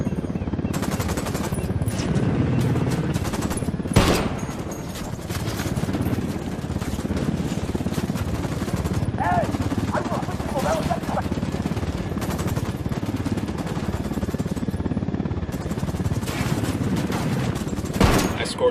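Dense automatic gunfire rattles almost continuously through a Ghost Recon Wildlands cutscene, layered over a steady low rumble with occasional sharper cracks standing out.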